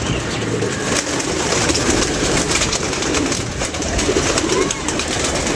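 Sharka pigeon cooing close by, soft repeated low coos over a dense, constant background din.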